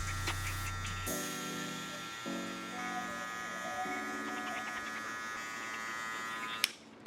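Electric hair clippers fitted with a number 1 guard buzz steadily at close range while blending a low fade on a client's head. The hum shifts pitch as the clippers move, then cuts off abruptly near the end.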